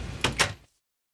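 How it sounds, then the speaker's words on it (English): Wooden doors placed in Minecraft, two quick close knocking thuds in a row that cut off into silence. "Need to add all the doors."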